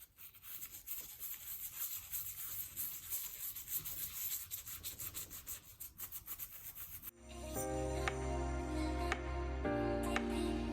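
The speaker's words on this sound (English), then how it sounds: "we'll get started on the scrubbing." K20/K24 engine parts being scrubbed, a steady close rubbing and brushing scratch for about seven seconds, then a louder, more clattery section of handling and scrubbing, with no voices.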